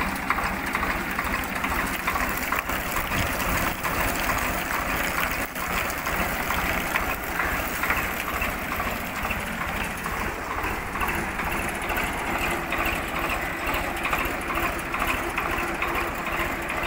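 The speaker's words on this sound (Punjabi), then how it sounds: "ਟਰੈਕਟਰ ਦੇਖ ਲਓ ਪੁਰਾਣੇ ਮਾਡਲ ਦਾ ਜੀ ਬਹੁਤ ਵਧੀਆ ਅਤੇ ਅੱਜ ਤੱਕ ਚੱਲ ਰਿਹਾ ਜੀ" An old-model tractor engine runs continuously as it drives a sugarcane crusher for juice at a village jaggery-making site, a steady rattling chug at an even level throughout, with no voices.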